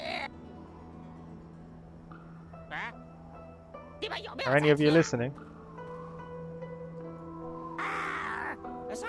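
Odd squawking and quacking bird calls in the game Xuan-Yuan Sword VII, heard in scattered outbursts between spoken lines. The loudest cry comes midway, with a shorter call near the end.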